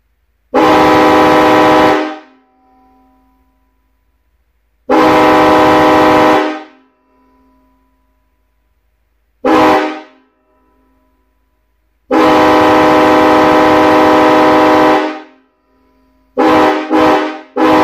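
Loud air horn blasts, several long honks separated by silences, ending with a quick series of short toots, close by.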